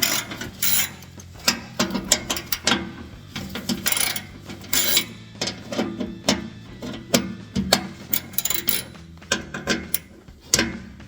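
Exhaust system bolts on a Chevy Silverado 1500 are loosened with a ratchet, giving quick, close bursts of metallic clicking and pawl ratcheting with brief pauses between runs.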